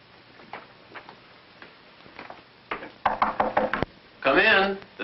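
Sharp knocks on a door ring out in a quick burst after a few faint taps, then a voice follows, in an old 1950s film.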